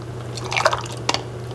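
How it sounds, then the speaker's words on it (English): Strawberry vinaigrette ladled into hot canning jars: a few brief, close liquid drips and splashes, a small cluster followed by one more pour a moment later, over a low steady hum. "we are going to ladle our vinaigrette into our jars"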